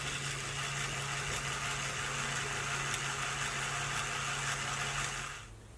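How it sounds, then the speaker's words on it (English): A small model sewing machine with a motor and gears turning the needle up and down, giving a steady close mechanical whir and hum that runs evenly before dropping away near the end. "this demonstrates the turning rotary motion from the motor and the gears into reciprocating motion of the"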